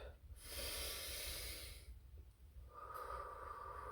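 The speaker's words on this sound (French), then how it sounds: "je vais prendre le temps pour bien respirer" Deep, slow breaths drawn in and pushed out by someone calming herself, two long airy exhalations close to the mic with a steady low rumble underneath, no talk.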